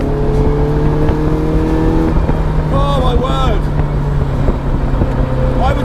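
Caterham Seven 360R on a race track, its engine droning loudly under braking and turn-in, then rising in pitch as it picks up speed, with someone talking over it.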